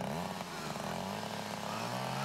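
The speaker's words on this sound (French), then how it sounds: "Allez, la danse de la tronçonneuse." A chainsaw in a 1995 horror film runs continuously with a loud, buzzing two-stroke drone that wavers in pitch, filling the whole stretch with dense mechanical roar.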